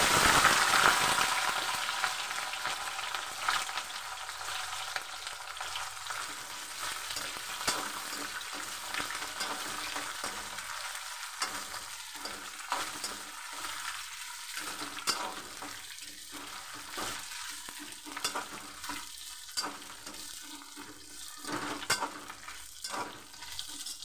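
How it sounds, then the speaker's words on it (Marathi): Dried bombil fish frying in hot oil in a pan give a steady, close sizzle that runs the whole time, with brief stirring scrapes and a crackle that eases slightly toward the end. "ही बोंबील आहेत ना, फ्राय करून घेते."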